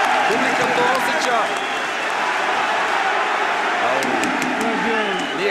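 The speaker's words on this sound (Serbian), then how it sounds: "Sjajna osetska publika podržava našeg šampiona" Boxing crowd cheering and applauding during a bout, a loud sustained roar of voices and clapping with an excited commentator talking over it throughout.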